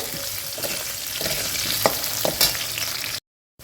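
Potatoes frying in a pan for a light Bengali katla fish curry, loud close sizzling with scraping stirs and a few sharp clinks, cutting off abruptly near the end.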